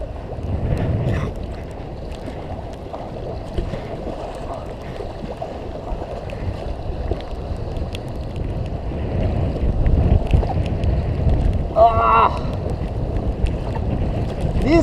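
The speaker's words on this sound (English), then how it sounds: "White water." A class 2 packraft rides white water rapids on a cold river, with a continuous loud rush of churning water and wind buffeting the microphone, plus a brief splashing burst near the end.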